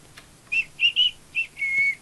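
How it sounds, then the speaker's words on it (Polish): A person whistles a short, high tune of five clear notes, a few quick chirps followed by a longer held tone, close and alone over faint background hiss. "Przecież nie gwizdaj, błagam."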